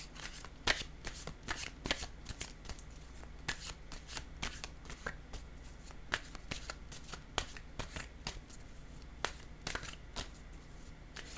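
A deck of oracle cards is shuffled at close range, a steady run of soft papery riffles and slaps repeating over several seconds with no talking.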